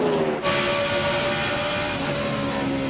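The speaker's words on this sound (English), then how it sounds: "You hear those motors? Man, those things are singing." Race car engines at high RPM whine at high pitch, sustained and fairly loud, with rising and falling tones as cars pass through during the 2002 Subway 400, no talking.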